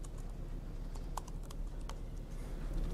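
Keys clack on a computer keyboard in a few quick, light taps, faint and partly buried under a steady low hum of room noise.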